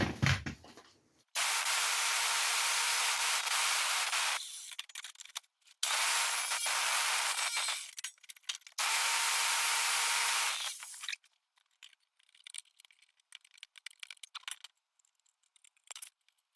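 A jigsaw fitted with a 24 TPI metal-cutting blade saws through the left-hand-drive dashboard of a Ford Escort MK1, running in three loud, sustained bursts with short pauses between, followed by quieter scattered handling noises.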